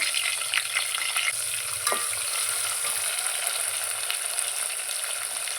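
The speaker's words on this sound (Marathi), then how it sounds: "हे सगळं एकदम सॉफ्ट होईपर्यंत आपल्याला जरासं परतून घ्यायचं" Sliced onion and tomato sauté in a pan with a continuous bright sizzle and soft stirring scrapes, one sharper knock near the middle, close and steady with no speech.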